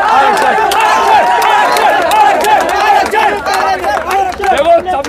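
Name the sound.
crowd clapping and chanting "aarakshan" (reservation)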